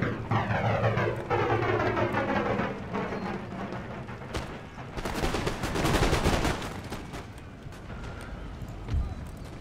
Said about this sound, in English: howitzers to continue firing